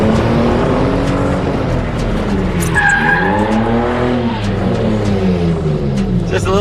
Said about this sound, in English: get back on throttle, and start to do donuts around the inner clip of the box.